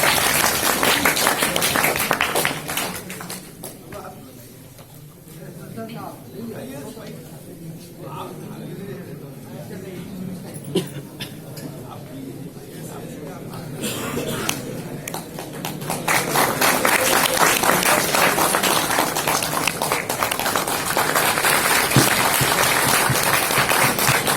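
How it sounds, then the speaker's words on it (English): Audience applause in a lecture hall at an academic congress honouring a professor, dense clapping from a large crowd that dips quieter midway and then swells to a sustained, loud ovation. "A big round of applause, please."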